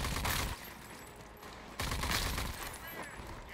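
Gunfire in the shooter game Rage 2 comes as rapid bursts of shots, with a loud volley at the start and another after a short pause, all sounding close.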